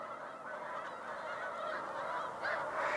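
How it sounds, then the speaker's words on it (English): Snow geese honk on Cayuga Lake in a dense, overlapping chorus of nasal calls. The flock sounds a little distant, and the calls swell toward the end. "I love the snow geese."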